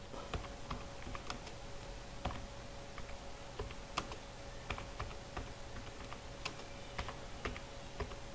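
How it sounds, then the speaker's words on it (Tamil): Numbers being typed on a Windows computer keyboard, a steady run of quiet, close key clicks with irregular spacing and no talking. "நான் இப்போ நம்பர்ஸை டைப் பண்ணுறேன்"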